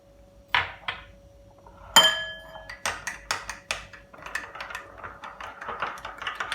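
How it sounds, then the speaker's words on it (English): A utensil clinks and taps against a bowl in a quick, irregular series of bright metallic hits as dry spice is mixed with milk for a creamy cheese pasta. The strikes are sparse at first and grow denser, with no speech. "Now we have to mix the dry spice with the milk"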